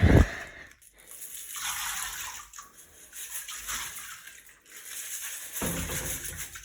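Bathtub filling from the tap, a hissing rush of running water in a steady stream with brief dips and a few short knocks, heard close with no talking.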